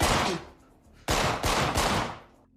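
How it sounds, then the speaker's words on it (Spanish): Loud, sharp gunshots crack out one after another, each followed by a ringing, decaying echo, with a short pause after the first blast. "El sonido de 3 disparos entre las 3:10 y las 3:15 de la madrugada despertó a la mayoría de los residentes"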